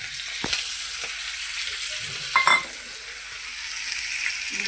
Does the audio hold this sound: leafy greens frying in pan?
yes